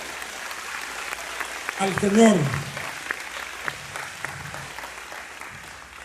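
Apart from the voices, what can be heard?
congregation applauding in church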